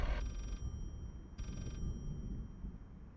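A phone rings in the horror game Layers of Fear, with two short electronic ring bursts separated by a pause over a low rumbling background.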